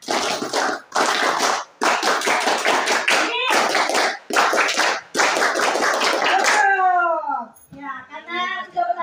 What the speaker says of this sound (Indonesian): kita kasih tepuk tangan kamu kayak